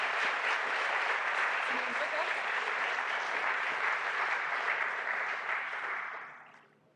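Sustained audience applause at the close of a talk, dense steady clapping filling the room before fading out near the end, with no speech over it.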